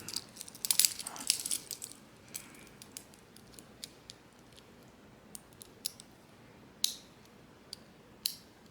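A steel bracelet clasp on a Seiko SPB301 dive watch is buckled with a cluster of crisp metallic clicks and jingles, followed by a few sparse, faint clicks in a quiet room.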